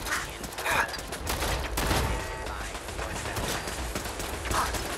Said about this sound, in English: It was a turret. I looked right at a turret.